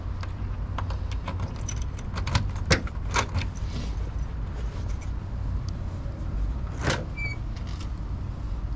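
Keys jangle and clink in bright, irregular bursts while the trunk of a 1969 Chevrolet Camaro with a 350ci V8 is opened, close and clear over steady outdoor background noise, with a louder metallic rattle partway through.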